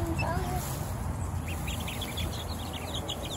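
Ducks quacking near young chicks and a rooster in a farmyard, a run of quick repeated quacks in the middle and end, mixed with people talking and steady outdoor background noise.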